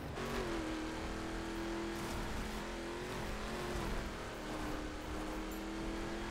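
A car engine in The Crew racing game drones continuously at a steady pitch, with a slight rise and fall in revs and faint tire noise, under a constant wash of road sound.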